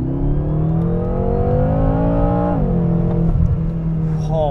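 A 2013 BMW M6 coupe engine revs as the car accelerates, a loud, close tone that climbs steadily in pitch, dips briefly around the midpoint, then keeps pulling, alone without talk.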